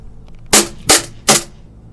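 A gas blowback airsoft pistol fires three sharp, loud shots, evenly spaced about a third of a second apart, each with a short bright crack and quick decay, up close in a quiet room.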